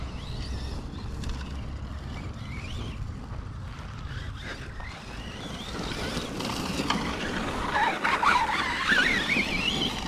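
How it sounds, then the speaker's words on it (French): An Arrma Kraton 4S V2 RC car gets a short burst of throttle outdoors, its electric motor whining up in pitch near the end over steady wind buffeting and rough rolling noise. "Petit coup de gaz pour franchir."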